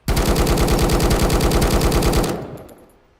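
Full-auto gunfire in the survival shooter Road to Vostok, a rapid unbroken burst of loud shots lasting about two seconds before cutting off and fading into a short echoing tail.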